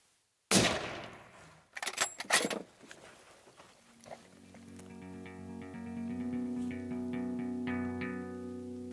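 A rifle shot on a deer hunt cracks sharply, followed by loud echoing reports and rustling, then a sustained droning tone rises and holds for several seconds.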